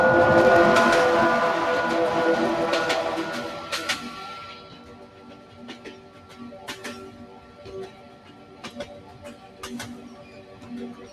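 Train sounds from a vinyl field recording: a loud, rumbling passage that fades into quieter, irregular clicks and clanks of rail equipment.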